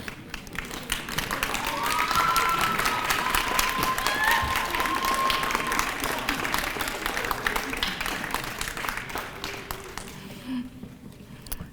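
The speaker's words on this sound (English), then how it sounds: "give everybody here a big round of applause" Audience applause at a nursing graduation ceremony, many hands clapping in a dense, crackling wash that builds over the first seconds, holds steady with faint cheers and whistles, then thins out near the end.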